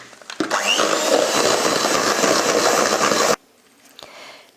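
Electric mixer beating egg whites with caster sugar for macarons, a steady loud whirring drone lasting about three seconds before cutting off abruptly, followed by faint quiet handling.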